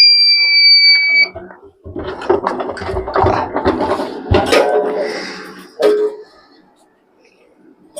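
Solar inverter alarm gives a loud, sharp electronic beep at once as its wires are connected, followed by clattering handling and scraping noises close by.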